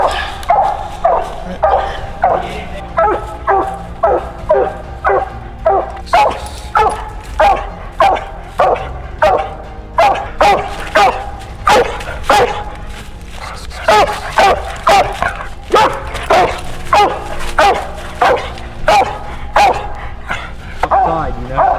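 Hunting hounds bay and bark in a steady repeated rhythm at a raccoon up a tree in snowy cold woods during a night coon hunt, loud and close, with occasional yips and a few people talking underneath.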